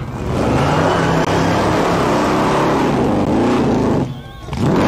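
A 700 horsepower supercharged alcohol-burning 8.2 litre Chevy V8 doing a burnout at a car show: a loud, continuous roaring engine with tyre scrub, sustained and close, dipping briefly near the end before surging again.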